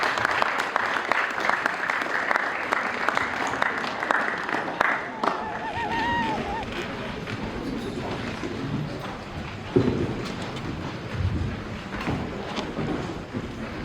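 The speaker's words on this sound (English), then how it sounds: "Please give her a round of applause." An audience at a keynote event gives sustained applause, a dense, steady clapping that lasts several seconds and then fades into room noise.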